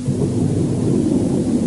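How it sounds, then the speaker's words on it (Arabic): Loud, steady rumble of thunder rolls under a heavy downpour of rain, a dense low roar that holds throughout with no pause and no voices. "تخيلوا أن الدنيا تمطر بشدة وأنتم تسمعون الرعد"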